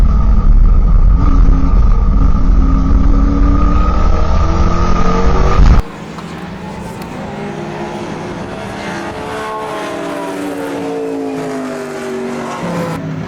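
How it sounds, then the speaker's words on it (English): Touring race cars, Holden Commodores among them, roar along a circuit's main straight in a Queensland championship race, engines droning loud and steady; an abrupt cut halfway switches to another passing pack with shifting engine pitch. "Riley started to regain places as he breezed past Gary Anger's Commodore down the main straight"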